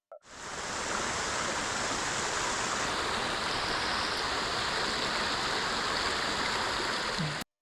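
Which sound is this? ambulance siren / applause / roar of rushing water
roar of rushing water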